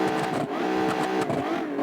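A car in the driving game BeamNG.drive accelerates hard toward 100 mph, the engine note buzzing loudly and continuously with rapid upshifts and rising pitch.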